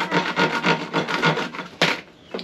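Repeated rasping strokes of a hand saw cutting through a scrap lumber board, a quick steady rhythm close up, then a pause and a couple of final strokes.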